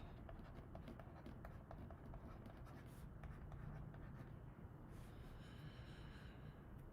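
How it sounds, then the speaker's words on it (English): Pen scratching on paper in quick, repeated strokes, quiet and close, with faint breathing in the background. "I'll just write this down as we go"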